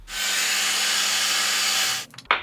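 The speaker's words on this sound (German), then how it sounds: "ich fräse jetzt noch ein Stückchen in die Richtung und noch ein Stückchen in die Richtung" A wood router mills a shallow groove in wood for a marking gauge, a steady loud whine running about two seconds, then stopping with a few short scraping handling noises.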